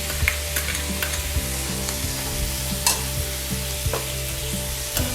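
Cabbage and spring onion sauté over high heat for spring rolls, a steady close sizzle with repeated scraping stirs and spatula knocks against the pan, no voices.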